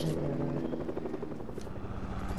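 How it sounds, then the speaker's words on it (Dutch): Helicopter in the video game Fortnite, a loud, steady rotor chop with fast rhythmic thumping that fills the whole stretch. "ik zie een helikopter. Hij komt waarschijnlijk naar de kist toe."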